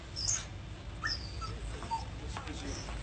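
A dog whimpers in thin, high whines with short yips, quiet over a steady low rumble of room noise, in a scene about a Gold Rush-era dog rubbed with turpentine.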